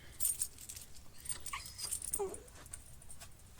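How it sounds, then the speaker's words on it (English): A dog whines faintly in short, high, intermittent whimpers over a quiet background. "my dog whining and periodically interrupting the quieter moments"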